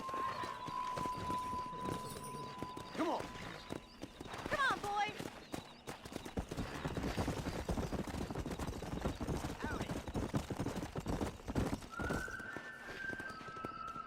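Horses' hooves clip-clop at a racing gallop with an occasional whinny in Red Dead Redemption, game music and voices talking over the galloping.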